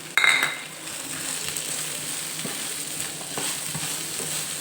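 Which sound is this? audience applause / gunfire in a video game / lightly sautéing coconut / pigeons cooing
lightly sautéing coconut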